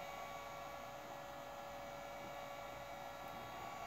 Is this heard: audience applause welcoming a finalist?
no